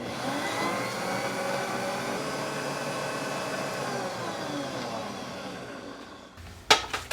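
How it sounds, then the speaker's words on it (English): An electric mixer creams butter and lard for cookie dough with Christmas cranberries and pecans, giving a steady close whirring drone for several seconds before it stops and a couple of sharp knocks follow. "We'll cream the butter and lard together."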